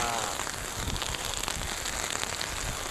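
Heavy rain pours down steadily during Typhoon Kristine in Masbate, a dense, even hiss of drops on surfaces, fairly faint and continuous with no clear talk.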